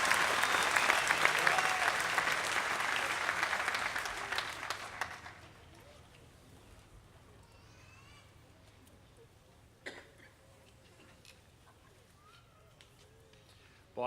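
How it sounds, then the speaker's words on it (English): Commencement audience applauding student leaders at an undergraduate ceremony, a broad burst of clapping for about five seconds that ends abruptly, followed by a quiet hall with scattered faint noises and a single knock. "Let's give our student leaders a round of applause."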